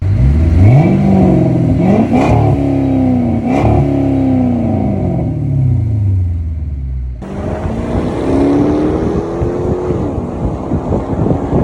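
A 5.7L HEMI V8 in a Chrysler 300C revs hard through its factory exhaust, loud and close, with rising and falling sweeps, then a second steady run of engine rumble after a cut.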